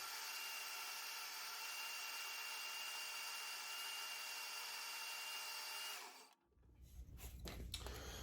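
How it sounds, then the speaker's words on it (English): A portable bandsaw cuts through knife handle scale material with a steady, bright whine for about six seconds, then the blade breaks free and the motor runs on unloaded with uneven rattling, nearby and alone without speech. "So I'm gonna cut it on the portable bandsaw and hope it goes good."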